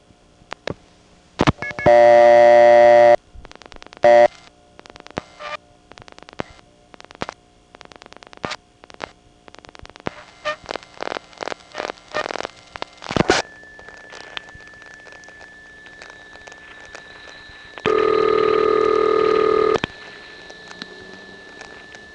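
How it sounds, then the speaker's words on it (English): Telephone call dialed into a 1977 crossbar switch in Brooklyn: bursts of clicking pulses and short tone blocks, with a long steady tone and a final loud multi-tone burst, near and clear. "Here's a call to a crossbar 1, dialed normally, without pausing between digits"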